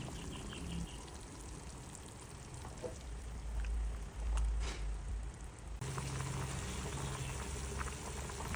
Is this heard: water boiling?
yes